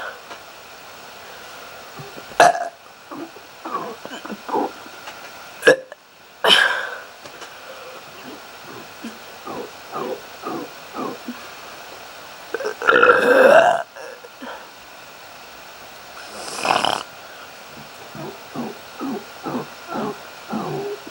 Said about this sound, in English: that concludes my burping video